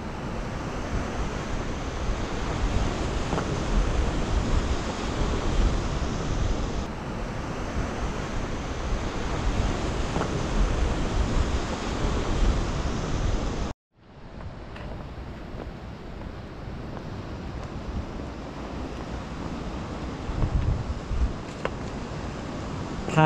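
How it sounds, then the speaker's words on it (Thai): Waves rolling onto the shore at Laem Mae Phim on the Thai coast, a steady close wash of surf mixed with wind noise across the mic, softening after a sudden cut midway; no talking. "ฟังเสียงคลื่น"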